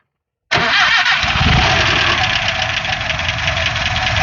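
A classic Dodge car engine fires up abruptly after silence and settles into a steady, fairly quiet running idle with a smooth mechanical hum, heard up close at the front of the motor.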